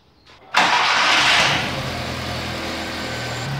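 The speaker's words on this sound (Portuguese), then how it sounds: "o veículo pega sem sensor de fase? É possível. Este veículo pega sem sensor de fase." A car engine with its phase sensor removed cranks briefly and catches, flaring up loudly before settling into a steady idle, heard close with no talking.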